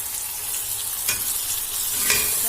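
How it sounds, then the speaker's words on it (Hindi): Ginger garlic paste frying with onions in a pan, a steady close sizzle with a couple of brief stirring scrapes, no talk. "फिर इसमें लहसुन अदरक की पेस्ट डालें और अच्छी तरह भूनें"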